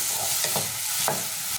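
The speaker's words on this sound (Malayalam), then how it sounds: "നന്നായിട്ടൊന്ന് ഇളക്കി കൊടുക്കാം." Chicken and onions stirred in a frying pan for a chicken stir fry, a spoon scraping in a few short strokes over a steady, close sizzle of frying.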